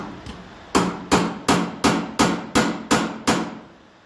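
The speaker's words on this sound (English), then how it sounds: "get a narrower chisel, just to get in there and open it." Hammer blows drive a chisel on a Massey Ferguson 35 tractor, one faint tap followed by seven loud, evenly spaced metallic strikes close by, then quiet.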